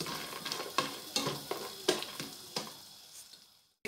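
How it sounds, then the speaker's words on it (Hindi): Nuts frying in a pan for sheer khurma, a soft sizzle beneath repeated scraping stirs of a spoon against the pan, with the strokes at a steady, unhurried rhythm before fading. "हम अब नट्स को अच्छी तरह से फ्राई कर लेंगे"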